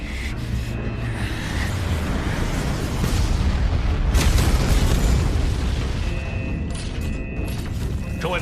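An animated explosion effect from a space fleet battle in the anime Swallowed Star rolls on as a sustained, dense roaring rumble with crackling bursts, peaking in the middle and staying loud throughout.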